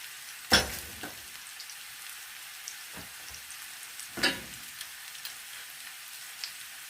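Fried potatoes with stewed meat and seasoning being stirred in a pan, a soft low sizzle underneath with a couple of sharper scrapes and clinks of the spoon, otherwise quiet.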